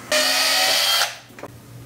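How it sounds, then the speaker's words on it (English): A power drill with an 1/8 inch bit bores a hole for a hook in a Euro mount display, whining loudly for about a second before stopping, followed by a couple of faint handling clicks. "So I'm gonna drill a hole."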